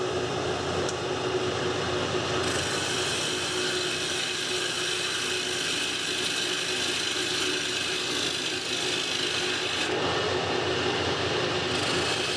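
Wood lathe tapering a square wooden cube, a steady rattling, chattering whir of the spinning piece against the cutting tool, continuous and close with no talk.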